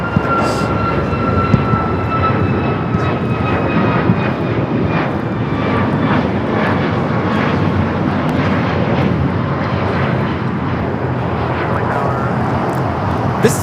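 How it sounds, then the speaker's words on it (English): An Alaska Airlines Boeing 737 MAX 9 takes off at LAX, its jet engines a loud, steady broadband roar with a thin whine riding on top, holding strong throughout with no voices over it. "This is Alaska Airlines 1315 taking off to Portland on the MAX 9"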